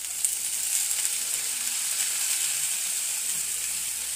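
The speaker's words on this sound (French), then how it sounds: "Là, on va déglacer au vinaigre balsamique." A pan sizzles steadily as balsamic vinegar hits it to deglaze, with peas cooking alongside for a poultry salad; a loud, continuous hiss close by with no talking.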